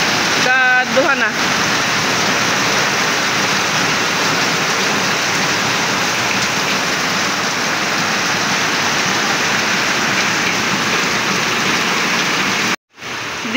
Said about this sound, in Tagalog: Lumakas pa po lalo yung ulan.